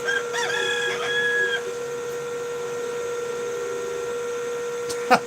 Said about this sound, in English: I love the roosters crowing.